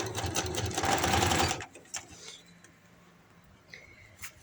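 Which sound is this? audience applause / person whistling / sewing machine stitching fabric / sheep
sewing machine stitching fabric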